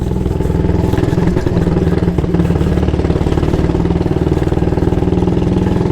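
A 1938 AJS Model 22 250cc single-cylinder motorcycle climbs a hill with a loud, close, steady rhythmic thumping exhaust that runs continuously under load.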